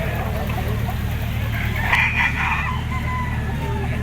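A stag rooster crows once, loud and nearby, over the constant murmur and hum of a crowded Lipa poultry auction market.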